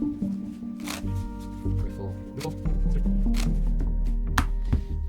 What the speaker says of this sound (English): And then give them a riffle shuffle sequence as well.